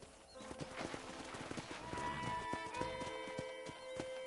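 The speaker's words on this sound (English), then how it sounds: "let's see if you can still ride a horse" A horse's hooves clip-clop at a brisk ride in the 2010 Western video game Red Dead Redemption, a steady rhythmic patter up close with sustained music tones and a brief whinny-like sound mixed in.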